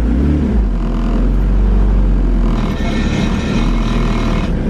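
Engine and drivetrain noise from an all-wheel-drive Honda CRX with a twin-disc competition clutch, a loud steady low hum and rumble filling the cabin throughout, with any clutch rattle blended into the drone and no talking.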